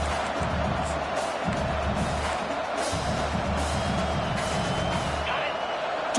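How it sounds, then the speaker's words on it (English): A fired-up home crowd at a college football game roars in a dense, continuous wall of cheering, loud and unbroken throughout, with a commentator's voice running underneath. "this home crowd is fired up and ready to make a difference today"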